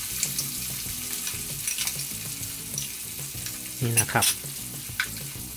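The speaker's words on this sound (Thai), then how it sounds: "อันดับแรกเราจะนำปลาช่อนลงไปทอดให้กรอบนะครับใช้ไฟค่อนข้างแรงนะครับ" Pieces of snakehead fish deep frying in hot oil over high heat, with a dense, bubbling sizzle throughout and a louder crackling burst partway through; someone briefly speaks over it.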